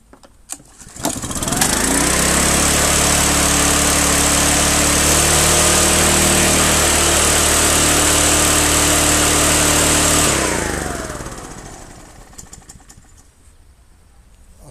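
An Allen XR44 lawn mower with a Honda GXV57 engine catches on a pull start, revving up to a loud, steady roar for about nine seconds, then winding down as the engine dies away.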